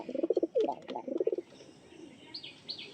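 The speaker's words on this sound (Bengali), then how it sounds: "এই একটি নর পায়রা ম্যাড্রাস নর পায়রা" Madrasi pigeons coo in a rapid throaty series up close, including a male, followed by a few higher chirps and faint rustling in a pigeon loft.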